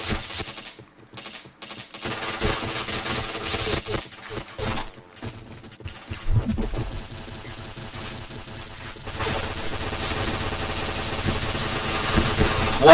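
Rapid bursts of automatic gunfire from a shooter video game crackle loudly and almost continuously, with brief gaps early on before the firing grows denser, while a player talks over parts of it.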